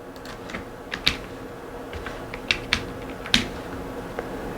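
Keys on a computer keyboard tapped in short irregular bursts of sharp clicks over a low background hum, fairly close and moderately loud, with no talking.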